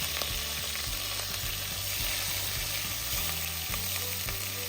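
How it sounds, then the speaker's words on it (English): Turkey meat browning in a frying pan over medium heat, a steady, close sizzle with bursts of crackling and the scrape of stirring throughout. "I want to brown the turkey meat"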